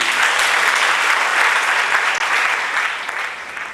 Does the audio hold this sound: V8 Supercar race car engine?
no